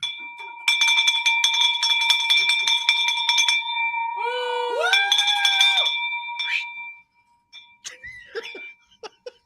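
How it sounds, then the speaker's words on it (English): A bright bell rings rapidly and repeatedly for several seconds, followed by whoops and cheering voices, then a few fading rings. "Drop that bell."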